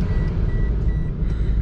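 A car's seatbelt warning chime repeats as a series of short, faint, evenly spaced beeps, heard beneath a steady low rumble of the engine and road noise inside the moving vehicle.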